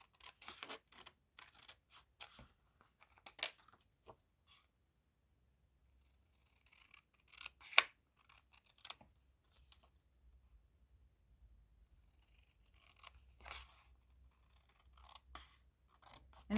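Scissors cutting a see-through pocket piece from fabric, with quiet snipping in short bursts broken by pauses and a faint low hum underneath, no voices.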